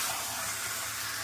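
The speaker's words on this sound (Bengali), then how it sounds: "মাংসটাকে এবার ভালো করে কষিয়ে নেবো।" Mutton stir-fries in a pan, giving a constant close hiss and sizzle with a faint low hum underneath, brief and steady, with no talking.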